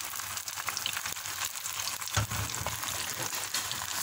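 Chicken with leftover masala frying in a covered pan, a loud, steady close-up sizzle with crackles and a brief stirring clunk partway through.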